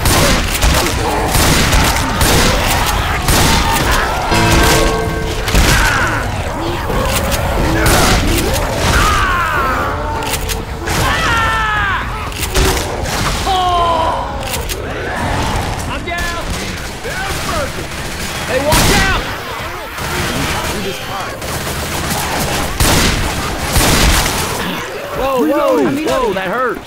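Gunfire and explosions in the zombie video game Left 4 Dead 2, loud and continuous, dense rapid shots with booming blasts and frantic game noises, while voices shout over the fighting.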